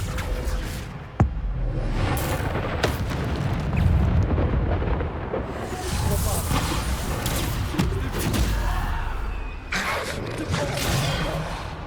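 Bombarda spell blasts from the Hogwarts Legacy video game boom and roar, with several explosions and whooshes in dense succession over sustained rumbling, loud and close.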